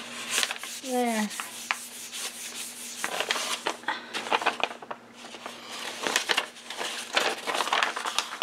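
Textured wallpaper rubbed by hand across a Gelli plate, giving soft scuffing and rasping strokes that come and go over several seconds, close and moderately loud, with a brief squeaky tone near the start.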